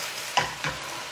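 Cabbage seasoned with black pepper and salt sizzles in a frying pan, with two quick scraping stirs over a soft steady hiss, close and brief.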